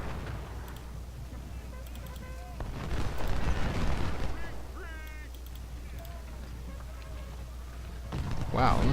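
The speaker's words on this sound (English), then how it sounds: "Your artillery is gonna be a bugger" Booming gunfire and artillery from a Civil War battle in the Ultimate General: Civil War game, bursts of explosions around the middle and at the end over a steady low rumble, with scattered game sounds and voices.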